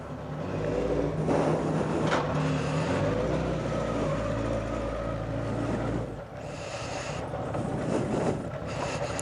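A road test of a motorcycle fitted with a Kawasaki engine and a loose ignition coil that may hit the front guard, the engine droning steadily and fairly close from start to finish, with rumbling mechanical noise and a short dip in level partway through.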